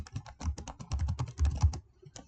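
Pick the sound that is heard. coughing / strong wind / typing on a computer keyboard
typing on a computer keyboard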